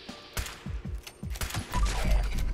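Anti-Armor Lucky Lever Action rifle fired at ghouls in Fallout 76, a rapid series of sharp shots with clicks between them, followed by a louder rumbling burst at the end.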